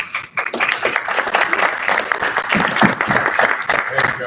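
Audience at a UMass Amherst student government meeting applauding for a chancellor, a dense, fairly loud round of clapping that continues with voices mixed in.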